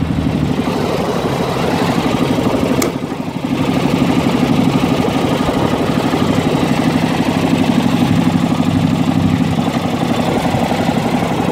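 An MTD riding lawn mower engine running in first gear, with a slipping drive belt: a loud, steady drone throughout, with a brief dip in level about a quarter of the way in.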